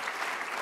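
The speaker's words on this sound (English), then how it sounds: "That's worth clapping for, I agree." Audience clapping at a food forum, a dense, steady wash of many hands filling the whole short burst without pause.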